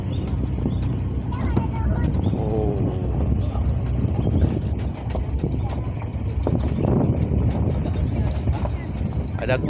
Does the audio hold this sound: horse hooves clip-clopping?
yes